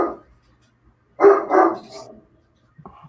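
Two household dogs bark close and loud in short bursts, a quick bark at the start, then a pair of heavy barks after a pause, trailing into softer yips and whines with stretches of quiet between.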